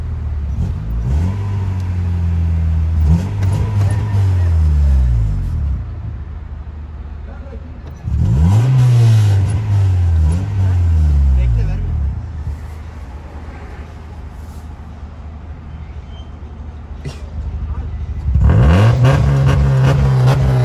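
A Honda car engine is revved hard at close range in three separate bursts, each climbing and falling, with a lower rumbling idle in the gaps.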